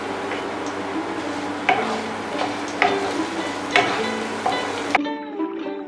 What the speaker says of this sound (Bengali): মশলাটা ভালোভাবে কষাতে থাকবো যতক্ষণ না মশলা থেকে তেল ছাড়বে।